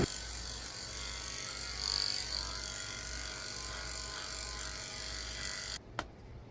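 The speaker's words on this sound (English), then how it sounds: "I'm shaving out the inside of his ears with a 30 blade so I can see what I'm doing when I clean them out" Electric clippers fitted with a 30 blade shave the hair inside a poodle's ears at a groomer, a close, steady buzzing drone with slight rises in pitch as the blade moves, cutting off abruptly near the end with a click.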